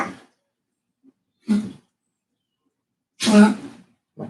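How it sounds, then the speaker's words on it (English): A dog with a heart murmur gives three harsh, hacking coughs spaced a second or two apart, with silence between them. "so if you hear any nasty coughing in the background, that is my dog."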